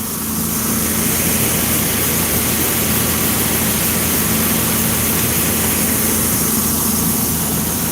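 A farm tractor's engine idles steadily and loudly nearby, a constant low rumble with a droning hum that holds unchanged throughout, with no voices.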